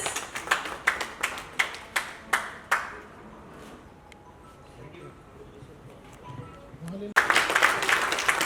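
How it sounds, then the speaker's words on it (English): At an international achievers award celebration, a few hands clap in a slow steady rhythm, about eight distinct claps, then a quiet pause before a sudden burst of full audience applause. "So round of applause, Miss Rose."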